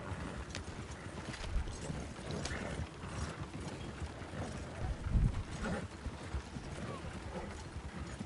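Horse hooves clip-clopping in a video game, repeated irregular clopping with mechanical clatter in the background, fairly near and steady throughout.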